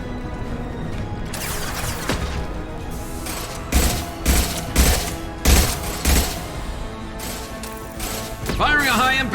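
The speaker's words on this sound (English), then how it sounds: "Firing a high-impact shot!" Rapid bursts of gunfire and heavy impacts in the Mass Effect 2 video game, a series of loud booming shots in an irregular rhythm over a layered combat soundscape, with voices speaking alongside.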